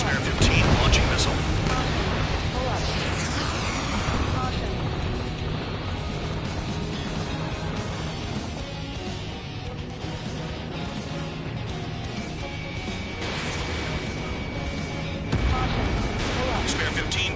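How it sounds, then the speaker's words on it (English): Missile launch and blast in the Ace Combat air combat game, a dense, continuous roar of engine noise and explosions with heavier bursts near the start and end, with radio chatter mixed in. "Spare 15 launching missile."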